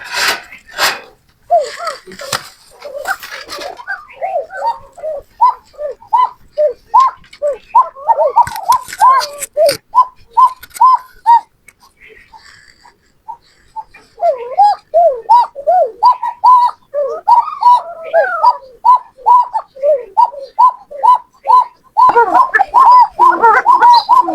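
Koka pigeons, of two breeds, coo in repeated rounded calls, close and fairly loud. The calls run in steady bursts with brief pauses between them, and a few sharp clicks and rustles sit among them.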